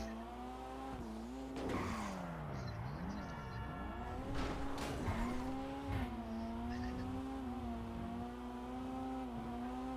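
A car driven in first-person view in GTA Online revs up and down with wavering engine pitch, and bursts of tire squeal and skidding are heard along the way.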